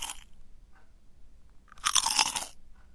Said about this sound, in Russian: Crunch – хрустеть.